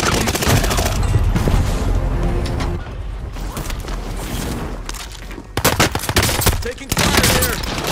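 Dense video-game gunfire in a lazer STG shooter: sustained loud automatic bursts and overlapping rounds with booms and mechanical clatter, close and continuous, with a player speaking over it.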